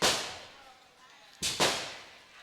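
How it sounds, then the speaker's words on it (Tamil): Firecrackers at a Tamil village temple festival: one sharp, loud burst followed by two quick cracks a moment later, each leaving a fading hiss. "அருமையான வெடி"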